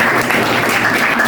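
A brief burst of steady applause from a small classroom crowd after a group presentation, dense clapping throughout with no pauses.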